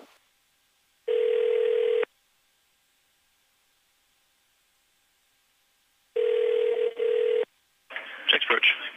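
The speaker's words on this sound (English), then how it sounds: "We're going to go ahead and make that phone call now and grab our IFR clearance on the phone on the ground" A phone call placed on the ground from a small aircraft to get an IFR clearance: two long, steady tones with a pause between them, then a burst of brighter dialing or ringing sounds, clear and close.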